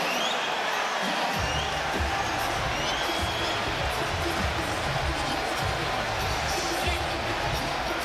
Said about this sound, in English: the crowd is absolutely enjoying this